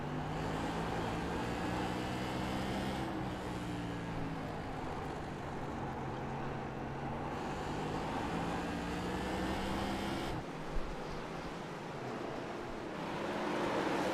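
Race car engine on a short track during a Super League race, the driver feathering the throttle; a steady, sustained engine drone with rising and falling pitch, moderately distant, with no talk over it.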